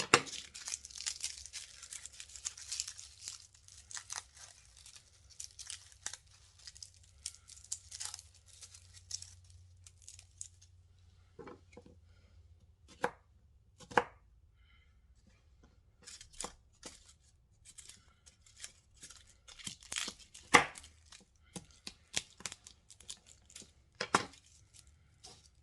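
A knife slicing garlic cloves on a cutting board in a home kitchen, quiet crisp cuts and taps arriving in irregular bursts with pauses between, some sharp isolated clicks, close and fairly faint.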